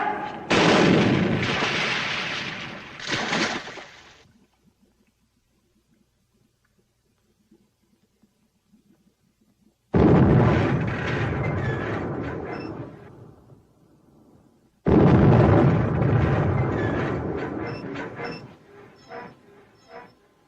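Gunfire and artillery from a 1943 war film thunder in heavy bursts: a long roaring volley, a quiet pause, then two more loud rumbling salvos that fade away.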